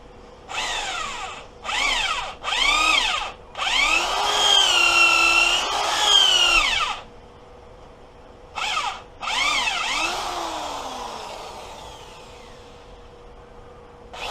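A reamer chucked in a power drill bores out an LTZ 400 cylinder head valve guide, high whirring bursts starting and stopping in short runs, one longer spin, loud and close, with quiet gaps between.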